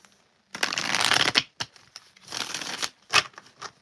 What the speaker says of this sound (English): I'm gonna shuffle these 3 times and I'm gonna pull 3 cards.